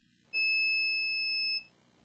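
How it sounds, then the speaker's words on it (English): A multimeter in continuity mode gives one steady, loud, high-pitched beep lasting about a second and a quarter as the probe touches ceramic capacitors on a laptop motherboard, with no other sound around it. "This is plus, is beeping to those ceramic capacitors."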